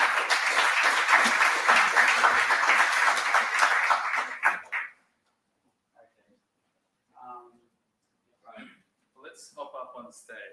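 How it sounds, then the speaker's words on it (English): An audience at the DataEngBytes 2022 data engineering conference in Melbourne applauds the panelists in a dense, even burst lasting several seconds, then it fades to quiet and a few scattered voices speak. "please give a round of applause for our panelists here"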